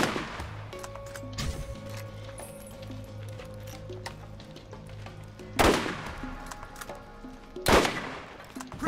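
Gunfire in Borderlands, with a steady low game hum broken by several sharp shots, two loud bursts standing out near the end and fainter pops earlier.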